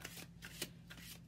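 Angel cards shuffled for a tarot-style reading, a quiet riffling of card stock in several short bursts with a low steady hum underneath and no talking.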